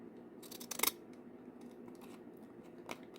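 Decorative-edge paper scissors snip through paper for journal pages, a quick cluster of crisp cutting clicks followed by a softer snip, close and quiet with no talk.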